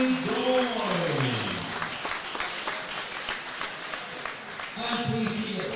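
Audience applause at a youth and elite boxing championship in Scotland, sustained crowd clapping in a hall, with someone speaking over it at the start and again near the end.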